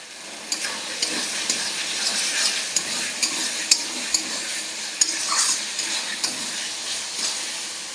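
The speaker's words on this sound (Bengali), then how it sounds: "মশলাটা আবার নাড়িয়ে দিলাম" Chicken curry masala is stirred in a hot pan, bright sizzling frying under repeated scraping strokes of a spoon, a regular rhythm of stirring with a few sharp clinks, close and fairly loud.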